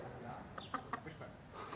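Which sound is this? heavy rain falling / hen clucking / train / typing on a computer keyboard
hen clucking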